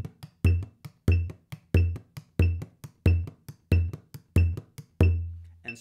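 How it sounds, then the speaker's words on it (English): A drum plays a simple jig pattern in strict time with a metronome: evenly spaced, sharp, resonant hits, about two per second, with fainter ticks between them, ending on one longer ringing stroke. No talking. "So if I take a simple jig pattern on the drum, it'll sound like this."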